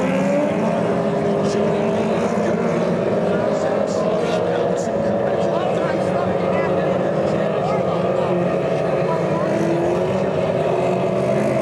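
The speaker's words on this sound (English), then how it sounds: "they basically have 750 Suzuki motorcycle engines in these cars" Race cars fitted with 750 Suzuki motorcycle engines drone continuously at a dirt track after a national event, a dense, steady engine roar that fills the whole stretch, with voices talking faintly underneath.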